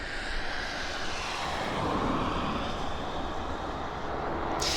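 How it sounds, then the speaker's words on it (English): A heavy USAF transport aircraft flying during arrivals at Abbotsford airport, a loud continuous jet engine roar sustained close by for the whole stretch, with no voices. "Strange but ugly looking airplane, if I dare say so."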